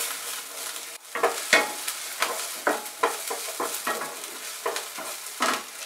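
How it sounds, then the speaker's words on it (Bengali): Chopped onion fries with garlic in a pan, giving a light continuous sizzle broken by frequent close scraping strokes of a spoon stirring, each one a short rasping burst. "এবার এটাকে ফ্রাই করব।"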